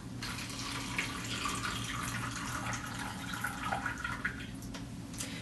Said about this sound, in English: Going to drain that.